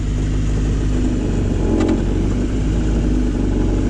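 The engine of a right-hand-drive Honda Civic wagon hums steadily and close while a gear refuses to engage, one brief rise in the middle and no talk.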